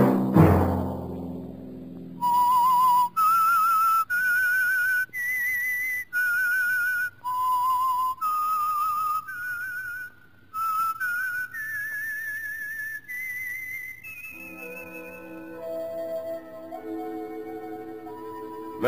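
A solo whistled theme tune from The Whistler radio show of 1950: a clear, loud melody of sustained notes that climbs step by step, then breaks into a faster run of shorter notes.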